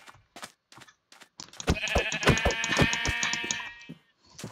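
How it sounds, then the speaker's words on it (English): Sheep bleating in the video game Minecraft Java Edition: several short clipped bleats open, then a longer wavering bleat dominates the middle, loud and close, with no talk. "There's a sheep."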